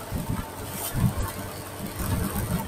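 Tricycle and motorcycle engines putter along a rural road past rice fields, a low pulsing throb at close range with no one speaking.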